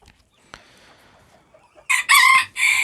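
A bantam rooster crows loudly and close by in a coop of ornamental chickens, a bright burst after a quiet stretch with a faint click, the call rising and breaking off briefly before carrying on.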